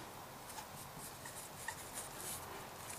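Pen writing out an exam-style answer on paper, a steady faint scratching and rubbing that runs continuously and quietly with small irregular strokes and no voices.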